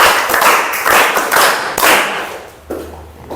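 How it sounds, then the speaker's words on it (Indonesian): Classroom clapping in a university lesson, a steady counted rhythm of sharp claps from a group, fairly close and loud, running as a series of even beats before trailing off. "1, tepuk 2, tepuk 3, tepuk 4, tepuk 5."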